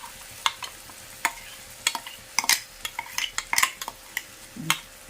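Curry stirring and frying in oil in a home kitchen, with a steady sizzle under repeated sharp scrapes and clinks of a utensil against the pan, spaced irregularly and fairly close.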